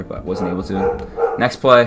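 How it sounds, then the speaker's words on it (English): Dogs bark in the background while someone talks over them during commentary on a Madden 19 football video game, the barks blending with his speech. "sorry about the dogs"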